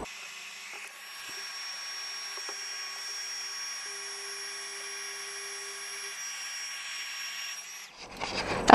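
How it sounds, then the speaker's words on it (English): Embossing heat gun running on high speed, a faint, steady whirring hum that holds evenly for several seconds, then cuts off into brief handling noise. "Got my embossing gun, and I'm going to put it on to high speed."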